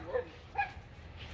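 Dogs bark a few short, faint yips and woofs in a Costa Rican city neighborhood, two quick barks over a quiet background.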